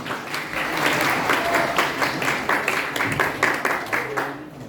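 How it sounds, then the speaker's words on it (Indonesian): A hall of school students applauding at a traffic-safety and anti-drug outreach session, dense, lively clapping at close range, steady and full for several seconds before easing slightly. "Tepuk tangan semua."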